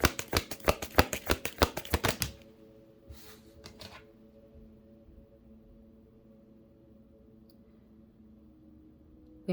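Tarot cards being shuffled to draw three, a quick run of crisp riffling snaps for about two seconds, then a low steady hum with a few faint soft rustles.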